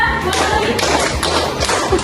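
Group hand-clapping game in a classroom, several rhythmic rounds of claps and thumps in a counted pattern, fairly close and loud, with speaking voices in the background.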